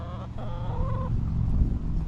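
Chickens clucking close by in short, uneven bursts over a low outdoor murmur.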